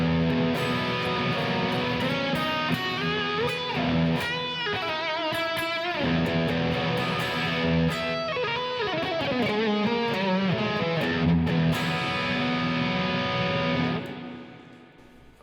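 Electric guitar improvising a repetitive, melodic lead line with a steady, lightly distorted sound that plays continuously for about fourteen seconds, then fades out. No voices are heard.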